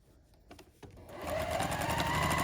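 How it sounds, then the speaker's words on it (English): A sewing machine stitches a pineapple quilt block, starting with a few slow individual stitches and then speeding into a steady, close, rapid whirring run. "And then sew on this line here."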